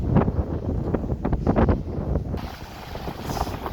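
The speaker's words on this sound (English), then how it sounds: "It's very windy today." Strong wind blows near the cruise port and Mambo Beach on Curacao, buffeting the microphone in a continuous, loud, gusty roar with no talking.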